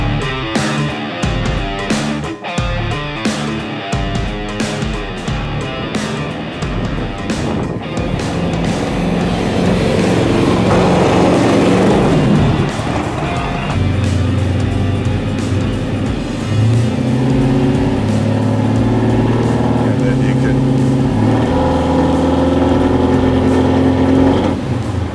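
A 2000hp twin-turbo 540ci bubble top Impala, a Detroit Autorama Great 8 finalist, drives on the road with a loud, continuous engine roar that rises and shifts in pitch as it revs and accelerates, close and sustained throughout.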